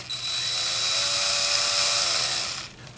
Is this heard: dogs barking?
no